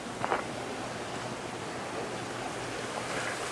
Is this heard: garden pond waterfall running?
yes